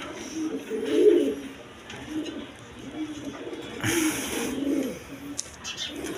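Rajgolla pigeons coo softly in repeated low, throaty phrases, with brief rustling and bursts of noise between the calls.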